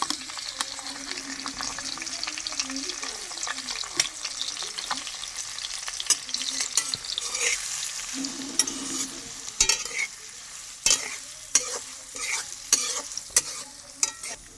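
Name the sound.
chopped onion frying with fried eggs in pan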